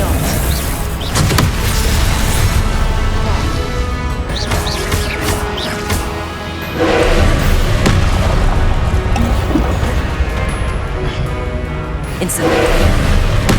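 Confringo blasting-spell explosions in Hogwarts Legacy, a dense run of loud booms and crashes with sharp transients, repeated through a busy game battle with layered effects and swells of noise.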